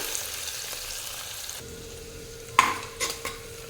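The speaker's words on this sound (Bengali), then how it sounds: "পেঁয়াজটাকে এবার লাল লাল করে ভেজে নিতে হবে" Chopped onions frying in a pan while being stirred, a soft continuous sizzle with a few sharp clinks and scrapes of a spoon against the metal near the end.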